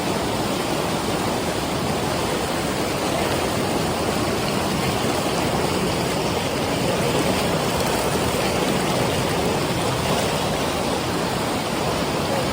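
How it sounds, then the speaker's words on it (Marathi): Icy glacial water of the Ganga river rushes past near Gangotri in a steady, dense roar that stays level from start to finish, with no voices over it. "गंगा नदी."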